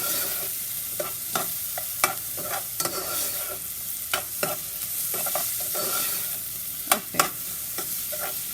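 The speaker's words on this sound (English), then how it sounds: "I have a small saucepan with about half a cup of oil heating up." Onion fries in about half a cup of oil in a small saucepan, a soft steady sizzle broken by scattered clinks and scrapes of a spoon stirring against the pan, close and quiet, without talk.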